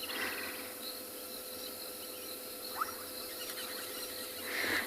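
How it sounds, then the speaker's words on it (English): Frogs calling at night during a sunset safari in the bush, a faint steady chorus of trills and chirps in the distance with a few brief louder calls, no talking. "You can hear all the frogs."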